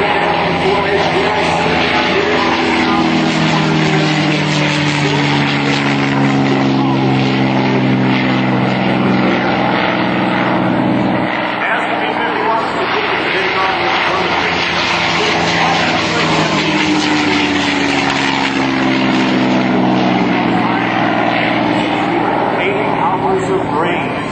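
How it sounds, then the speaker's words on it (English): Vintage propeller fighter planes such as P-51 Mustangs and P-47s flying at an airshow, a loud continuous engine drone that swells and shifts in pitch as they pass, with a voice talking under it. "What you'll see with today's comparison fighter flight, we're not only going to have the P-51s, we're going to have the P-47s, P-38s, the P-63 King Cobra"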